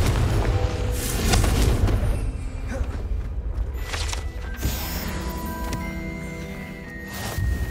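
A Confringo blasting spell goes off in Hogwarts Legacy with a low boom. Crashing and clattering debris follow over several seconds, backed by tonal game music.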